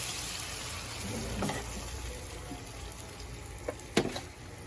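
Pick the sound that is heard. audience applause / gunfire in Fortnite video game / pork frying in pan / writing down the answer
pork frying in pan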